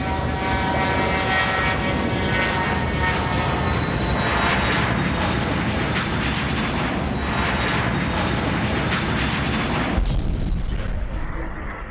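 An airliner bound for London from Ahmedabad, which crashed within a minute of takeoff, gives a loud, steady engine roar that drones continuously and then cuts off abruptly near the end.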